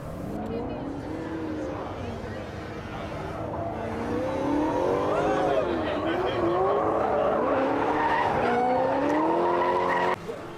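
A Corvette drifting at an LS engine festival in Las Vegas, engine note rising and falling in long sweeps with tire squeal, steady and fairly close for about ten seconds before cutting off abruptly.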